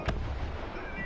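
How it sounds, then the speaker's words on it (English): Single sharp burst of aircraft strafing gunfire in a video game, one crack right at the start fading into a low rumble over about a second, fairly quiet overall. "I'm gonna strafe this guy"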